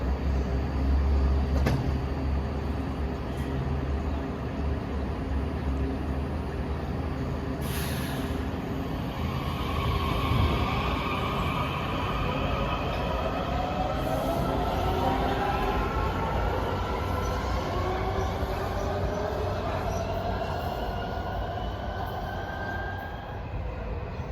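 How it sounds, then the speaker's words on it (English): A Washington Metro Breda train bound for Glenmont pulls into the station with a steady loud rumble and rising, falling motor whine, plus brake hiss and squeal, sustained throughout with no talking. "Comes a Glenmont train of Bredas."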